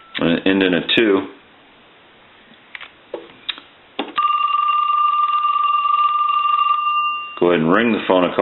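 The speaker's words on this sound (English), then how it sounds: "Go ahead and ring the phone a couple times." A Western Electric Trimline telephone rings on a repair bench, a steady electronic warble lasting about three seconds, framed by brief talk before and after with a few small clicks in between.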